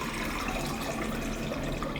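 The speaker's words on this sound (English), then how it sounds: "I always start by pouring the fresh water into my cauldron." Fresh water pours steadily into a witch's cauldron, a continuous close splashing and gurgling rush that holds even and unbroken throughout.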